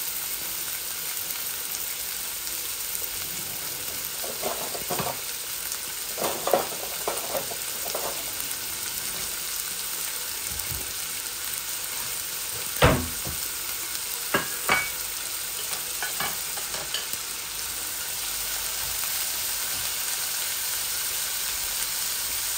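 Pangas fish and bathua greens stir-frying in a pan for a bhuna, a constant close sizzle with scattered scraping stirs and clinks against the pan, and no speech.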